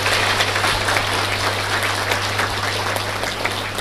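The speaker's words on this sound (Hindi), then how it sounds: "हम सभी अपनी जयंती के लिए एक बार जोरदार ताली बजा करके" An audience at a Mahashivratri festival and women's day gathering claps loudly and continuously for a few seconds, a dense ongoing patter of many hands over a low steady hum, with no talk.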